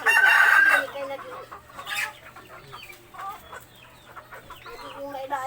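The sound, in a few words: pet chickens clucking and rooster crowing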